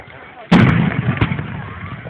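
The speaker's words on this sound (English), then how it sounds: "This is the fireworks." Fireworks burst with one loud, sharp boom that rolls into a crackling, rumbling tail, followed by a second fainter pop, heard outdoors close by.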